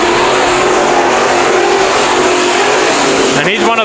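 Race cars roaring around the Bakersfield Speedway dirt track during heat races, a dense, continuous loud engine drone with a commentator talking over it.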